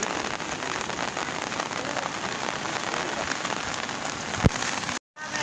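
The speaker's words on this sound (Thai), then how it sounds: "นี่ก็เป็นบรรยากาศในฝนตกเลยเนาะ" Heavy rain falls during a flood in Laos, a loud continuous patter and hiss with one sharp knock near the end, then a brief dropout before the rain resumes.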